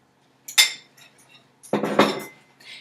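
Two mashed ripe bananas dumped into the metal bowl of a stand mixer, giving two close clattering knocks against the bowl about a second apart, with a faint scrape after.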